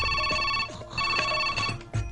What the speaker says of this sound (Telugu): అర్ధరాత్రి ఫోన్ ఏంట్రా బాబు?